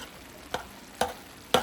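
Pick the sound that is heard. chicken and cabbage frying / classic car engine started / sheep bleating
chicken and cabbage frying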